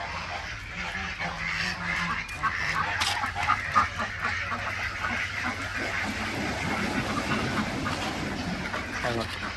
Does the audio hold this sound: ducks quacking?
yes